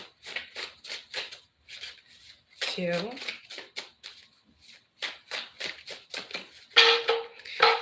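Tarot cards are shuffled by hand in quick repeated riffling bursts, close and crisp, with a voice briefly counting between them.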